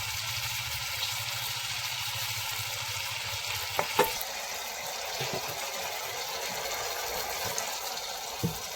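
Spices and tomatoes fry in plenty of oil for a spicy Bengali fish curry, a soft, steady sizzle and bubbling with occasional faint clicks of a spoon, fairly quiet and continuous throughout.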